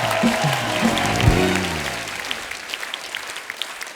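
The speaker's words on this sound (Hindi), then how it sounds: "जोरदार तालियां हो जाए अमीषा के लिए" A television studio audience applauds a guest's arrival on a comedy talk show, with clapping that fades into scattered claps after a brief burst of musical tones at the start.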